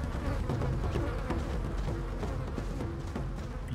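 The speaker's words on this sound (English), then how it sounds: "Bees, bees, bees, bees, bees, bees, bees." Buzzing bees from the video game Mini Ninjas, a steady, dense insect drone that stays loud and continuous throughout with no pauses.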